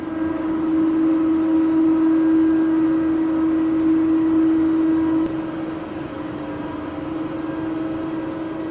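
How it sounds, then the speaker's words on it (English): Ropeway drive motor in Zermatt, heard right beside it at the gondola exit: a loud, steady hum with a strong droning tone that drops in level partway through. "Another cool feature of this ropeway is that when exiting the gondola you are directly at the side of"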